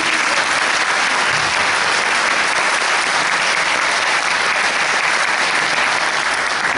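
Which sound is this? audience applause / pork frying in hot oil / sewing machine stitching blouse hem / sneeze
audience applause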